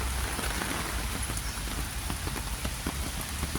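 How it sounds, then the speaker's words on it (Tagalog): Steady rain pattering on hard surfaces on an intermittent rainy day in Hong Kong, a dense continuous hiss of drops with scattered sharper splats close by, nearly constant in loudness and with no voices. "Sulpot-sulpot yung ulan, guys."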